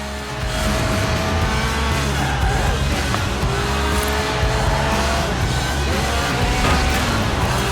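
Lotus Elise Sport 190 with its 1.8-litre engine drifting in Forza Horizon 4, a loud sustained high-revving engine note with rising and falling pitch sweeps and tire squeal, with no break throughout.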